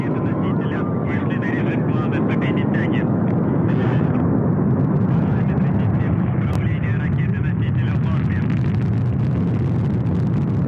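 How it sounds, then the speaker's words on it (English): A Soyuz rocket lifts off carrying a Progress cargo craft to the International Space Station, its deep, continuous roar rumbling steadily throughout while a commentator talks over it. "Liftoff of the Progress 92 cargo craft bound for the International Space Station"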